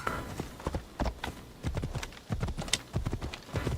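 Horse hooves clip-clop steadily at a riding pace in the ancient Greek game Assassin's Creed Odyssey, a close, rhythmic run of hoofbeats lasting several seconds with no talk over them.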